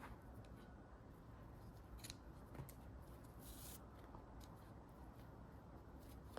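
Scissors snip through crochet yarn after a final chain stitch on a crochet summer bag, a few soft, brief cuts heard close up over a steady quiet background hiss.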